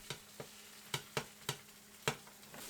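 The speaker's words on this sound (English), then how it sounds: "you pour the batter in, pick up the pan and swirl the extra batter to coat the walls of the pan" Bánh xèo batter sits in a hot swirled pan with a soft sizzle, punctuated by about seven sharp clicks or taps spaced irregularly, close and fairly quiet with no voices.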